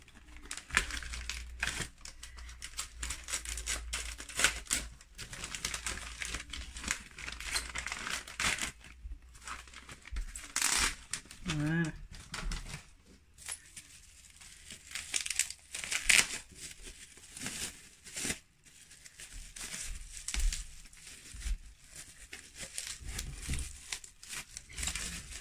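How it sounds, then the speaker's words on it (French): Wrapping paper crinkles and rustles steadily for about 25 seconds as a gift is slowly and carefully unwrapped, with occasional soft tearing amid the close, continuous crackle. "Je vais essayer de ne pas trop abîmer le papier."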